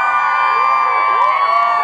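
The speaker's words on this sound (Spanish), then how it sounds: "Que se escuche el fuerte grito de las mujeres" Women in a comedy show audience at a market venue scream and cheer loudly, a dense, sustained wall of high-pitched shrieks and whoops filling the space.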